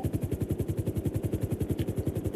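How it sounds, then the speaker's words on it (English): A helicopter in a video game flies steadily, its rotor chopping in a fast, even rhythm with a loud, close engine drone and no talk over it. "We're tailing him in the helicopter, Dylan."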